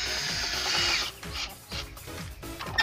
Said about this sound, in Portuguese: Vou parafusar mais um aqui, ó.